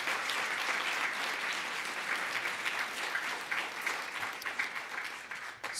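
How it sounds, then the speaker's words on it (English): Inauguration Day crowd giving a departing official one more round of applause, a loud, sustained sheet of clapping from many people that thins into scattered individual claps toward the end, with no speech over it. "Let's give Keudy one more round of applause."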